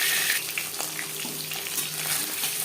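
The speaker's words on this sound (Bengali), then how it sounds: "একটা সাইড ভাজা হয়ে গেলে অপর সাইডটা উল্টে দেবো।" Pieces of fish, including fish heads, frying in hot oil in a pan, a steady close sizzle with crackling spatters throughout, no voices.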